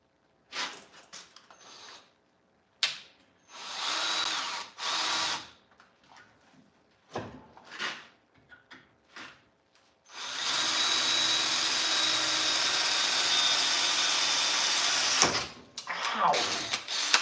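A power drill with a bit runs on metal in a garage where a tractor is being repaired, in several short bursts and then one long sustained run, with brief speech between.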